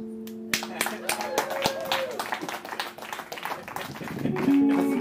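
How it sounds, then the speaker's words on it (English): Clapping from a comedy show audience mixes with someone talking from the stage, the claps scattered and uneven at first, then building into a thicker burst of applause toward the end. "please clap."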